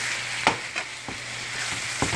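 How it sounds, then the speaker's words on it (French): Smoked herring and salt cod sauté in olive oil with onion, shallot, peppers and green onion, making a soft continuous sizzle broken by several sharp stirring clacks, with no talking. "On laisse revenir que le morue et l'hareng puissent prendre tous les goûts"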